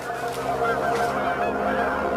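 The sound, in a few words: geese honking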